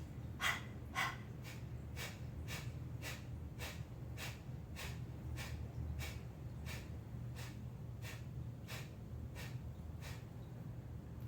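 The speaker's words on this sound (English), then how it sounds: "stick my tongue out and pant like a dog" A yoga practitioner panting rapidly through the mouth with the tongue out, like a dog, about fifteen short rhythmic exhalations at an even pace, close and quiet, without talk.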